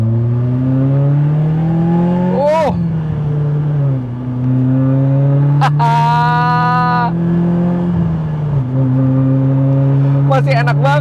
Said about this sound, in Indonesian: Saya mau injek gas agak dalam. Pertama kalinya saya geber M3 generasi pertama